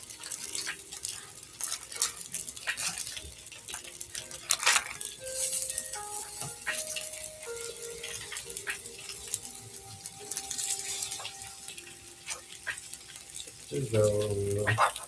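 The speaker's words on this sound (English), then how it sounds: "It's the sizzle, the sizzle" Steady frying sizzle with a constant crackly hiss, broken by occasional clinks and stirring sounds from a pan, fairly close.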